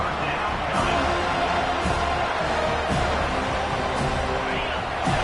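Home stadium crowd roaring in the College Football 25 video game on a third down, a dense steady wall of cheering with a commentator's voice running over it.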